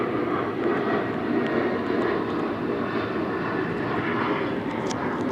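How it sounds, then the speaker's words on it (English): A Southwest Airlines airliner flies over a plaza near Ontario International Airport, its broad, steady engine roar filling the air throughout. "That's Southwest Airlines flying over the B&G Plaza"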